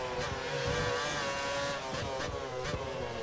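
Tonal race car engine whine in the F1 2013 game, a Caterham, droning steadily with pitch shifts as it revs through gears, at moderate level with brief percussive clicks.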